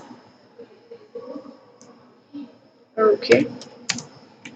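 A computer keyboard clicks with a quick cluster of keystrokes, close and distinct, after a stretch of quiet ticks and faint taps; a voice speaks briefly alongside.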